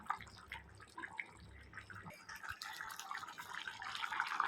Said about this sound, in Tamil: நல்லா சூப்பராக கொதிக்குது பாருங்கள்.